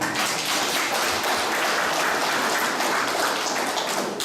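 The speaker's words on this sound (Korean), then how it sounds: "여러분 그 우리 이성 부총장님한테 박수 한번 보내주시죠" Guests at a Guro photo exhibition opening ceremony applaud the vice president, a thick, continuous roll of clapping from a roomful of people that stays loud and unbroken.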